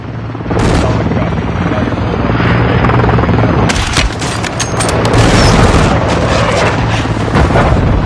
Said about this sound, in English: Helo has entered the airspace.